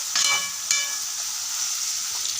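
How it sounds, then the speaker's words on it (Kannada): Tomatoes frying in a pan, a close steady sizzle with a couple of sharper crackles near the start, continuing evenly throughout with no voices. "ಟಮಾಟಿನ ಹಾಕ್ಕೊಂಡು ಚಂದಾಗ ಫ್ರೈ ಮಾಡ್ಕೊಂಡು ಬಂತ್ರಿ"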